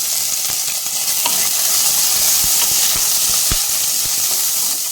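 Sliced big onion and three chopped chillies, salted, sauté in a hot pan for idli sambar: a steady close sizzle and hiss with scattered clicks and scrapes of stirring, with no voices.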